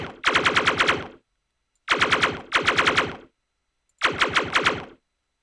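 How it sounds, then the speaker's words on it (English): Automatic gunfire from a hitscan weapon in a video game under development, heard as four short, even bursts of rapid shots separated by silence, crisp and fairly loud with no talking. "it should be playing sounds and it should be shooting a little bit slower"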